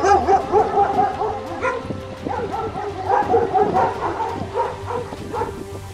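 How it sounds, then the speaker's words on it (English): A dog barks and yips repeatedly in quick, uneven bursts, fairly close and loud, with some whimpering tones mixed between the barks. "Dog barks like this."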